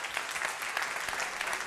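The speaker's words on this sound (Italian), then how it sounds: "un applauso" Audience applause at a regional Miss Mondo Lombardia Piemonte beauty pageant final, a dense, steady clatter of many hands clapping for the Rete 7 staff and crew, sustained and fairly distant with no voices over it.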